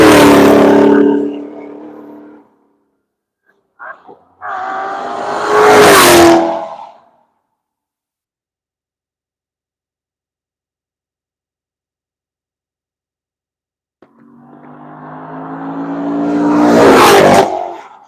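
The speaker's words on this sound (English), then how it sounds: "And here comes Super Dave in the MGB." An MGB race car laps the Nelson Ledges circuit during a track session, with engines roaring past in loud, swelling pass-bys separated by stretches of silence, one car approaching and fading at the end.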